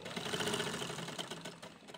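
Sewing machine set to a long stitch, sewing pleats on a kurti sleeve, a quiet, rapid mechanical chatter running continuously for a couple of seconds with a slightly uneven rhythm.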